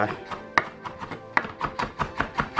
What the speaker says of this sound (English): we're just giving everything just a little rough chop